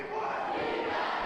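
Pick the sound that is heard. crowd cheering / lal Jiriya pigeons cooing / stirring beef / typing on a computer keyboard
crowd cheering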